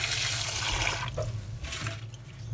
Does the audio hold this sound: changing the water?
yes